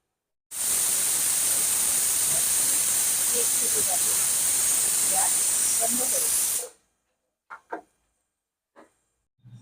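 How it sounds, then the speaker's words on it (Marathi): A pressure cooker cooking dal releases a loud, steady hiss of steam for about six seconds, with faint rattles beneath, then stops abruptly, followed by a few soft knocks and handling sounds. "डाळीला उकळी आली कुकरचं झाकण बंद करू एक सिटी झाली की गॅस बंद करायचा"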